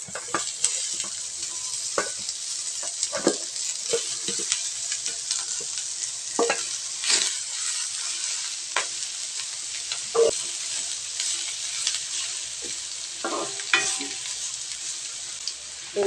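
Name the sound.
stir-frying beef tendon with ginger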